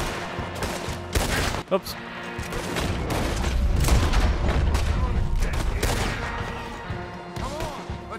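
Gunfight in Red Dead Redemption 2, with loud, repeated gunshots and echoing booms cracking one after another in a chaotic exchange. A voice briefly speaks over the shooting.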